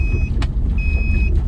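A steady high electronic car warning tone sounds twice, each a sustained beep, over a loud rumbling car engine, with a short noise burst between them.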